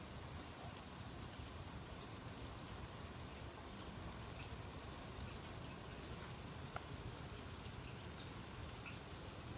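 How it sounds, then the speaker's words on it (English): Heavy rain falls hard in a steady, dense hiss with scattered drops, loud and unbroken throughout and with no voices. "once in a while that the rain comes down pretty hard"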